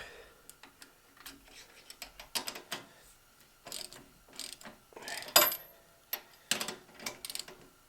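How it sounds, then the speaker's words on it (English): A hand ratchet undoes the anti-rock bar linkage bolts on a Jeep TJ, clicking in short, uneven bursts with pauses between turns, close up and fairly quiet. "let's undo the linkages and then pull this bar out"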